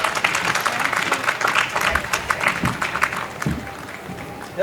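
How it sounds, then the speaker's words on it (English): A festival audience at a sari tribute event gives a round of applause, a dense wash of clapping with a few scattered voices underneath. "Everybody, can we have a huge round of applause?"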